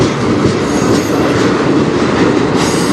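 A southbound freight train on the Strathroy Subdivision in Ontario rumbles past close by, with steady loud roaring and rattling wheels throughout.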